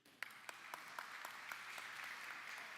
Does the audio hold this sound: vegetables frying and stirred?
no